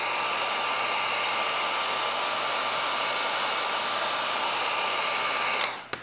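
A heat gun blows hot air onto an RC car body skin for an Arrma Infraction, Limitless or Felony chassis, a steady loud whooshing hum with a faint tonal whine that runs unbroken before clicking off near the end.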